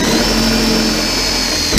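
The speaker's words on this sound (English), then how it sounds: "I am going to put a screw on the bottom of this" A power driver spins a tech screw through the bottom of a time clock box, a steady loud whine held for under two seconds with no talk.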